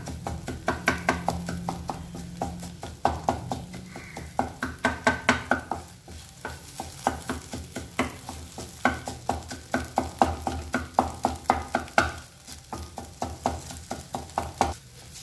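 Egg being mashed and stirred with a spoon in a pan for plavila mutta thoran, a jackfruit-leaf and egg stir-fry, giving steady rhythmic scraping and tapping strokes over a soft frying sizzle, close and clear with no voices.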